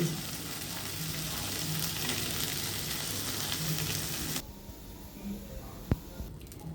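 Snakehead fish frying in oil: a steady, fairly quiet sizzle that suddenly drops away near the end, followed by a single sharp clink.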